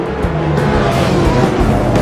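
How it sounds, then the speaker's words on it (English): A vintage Corvette's engine in the Assetto Corsa racing game roars steadily and loudly throughout, a continuous deep rumble with slight shifts in pitch as it holds power. "I love the way this Corvette sounds."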